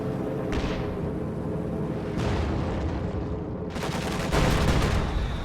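Bursts of machine gun fire and explosions in a World War II strategy video game, a loud dense continuous roar of gunfire with heavier blasts breaking through.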